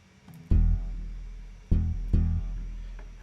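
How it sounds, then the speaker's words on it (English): Punchy guitar layered over a bass line in a production, three heavy low hits landing in a heartbeat-like pattern, each decaying slowly, loud and alone. "Guitar just adds a bit of punch to the bass that's already there."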